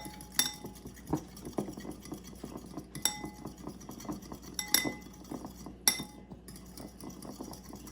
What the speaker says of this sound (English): Let's go ahead and mix that up.